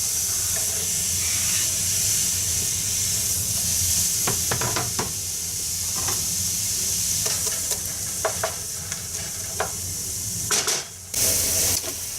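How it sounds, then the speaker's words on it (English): Onions go into olive oil in a hot pan and sizzle with a steady bright hiss, broken by scattered clicks and scrapes of a utensil stirring, loudest near the end. "Throw in a little bit of olive oil. And the onions can go in and start sauteing."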